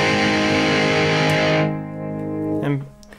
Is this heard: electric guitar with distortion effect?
yes